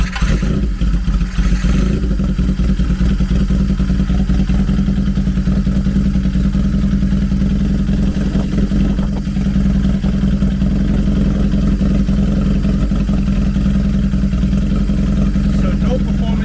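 Honda CB750 motorcycle engine running during a spark plug and coil test, a loud steady close idle rumble with mechanical clatter throughout and a person talking over it.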